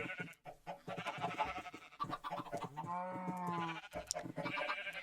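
A sheep bleats in a Minecraft game, wavering and drawn out, rising over scattered clicks and shuffling, with a shorter bleat following near the end.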